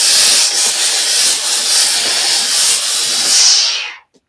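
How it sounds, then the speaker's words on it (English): A steam iron releases a continuous, loud hiss over fabric on an ironing table, steady for about four seconds before cutting off abruptly. "I am going to steam this to release some of that rippling, kind of steam it back into its position."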